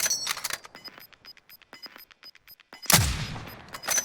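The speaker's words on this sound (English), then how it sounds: "I'm just sending shots now." Gunfire in the video game Call of Duty Warzone: a quick string of sharp shots with ringing metallic clicks, then a heavier burst of fire near the end, loud and close.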